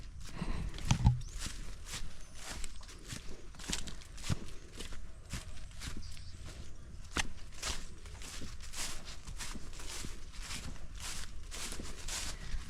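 A carabao (water buffalo) plods past on a quiet farm path, its hooves making slow, irregular steps close by with no voices over it.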